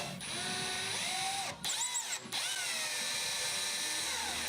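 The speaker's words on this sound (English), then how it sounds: "Then I stepped up to a 6mm bit and re-drilled the hole." A power drill with a 6mm bit whines steadily with rising and falling pitch, briefly pausing twice, as it re-drills a hole in a wooden Ercol Windsor dining chair up close.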